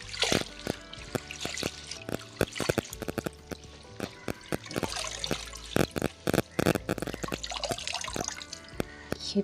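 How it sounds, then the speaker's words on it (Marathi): Kurdu greens, a traditional wild leafy vegetable, being washed by hand in water: splashing, dripping and sloshing with sharp clinks against a vessel, continuous and close throughout. "भाजी घेऊया आपण धुवून।"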